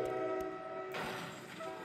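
A train horn blares in sustained tones over a low rumble, with a brief noisy swell in the middle, sounding like game audio.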